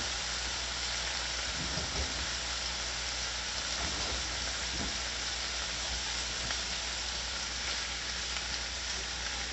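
About four strips of bacon fry on a stovetop, giving a steady, close hiss and crackle like light rain that keeps going without a break and with no talk.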